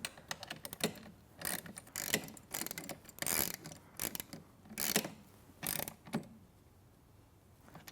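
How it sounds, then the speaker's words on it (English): A 7/16 socket ratchet wrench tightens nylock nuts while a wooden-post studio reformer is assembled, giving repeated bursts of quick, close ratcheting clicks separated by short pauses. "I just need my 7/16 socket. I'm going to give that a little tighten."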